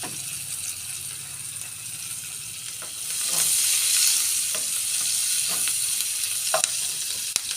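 Onions frying in a pan for beef in cheesy mushroom sauce, a steady close sizzle that swells louder midway, with occasional light clicks of a utensil and no voices.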